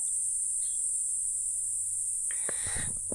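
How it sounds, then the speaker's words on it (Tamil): On an Australian island, a steady, shrill drone of insects chirping fills the whole stretch, with a few brief bird chirps cutting in near the end. "பூச்சிகள் சத்தம்."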